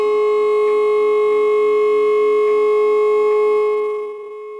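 A hydraulic pump on a dump trailer whines as the cylinder extends, a loud steady tone that shifts in pitch and drops off near the end as the cylinder moves to its next stage.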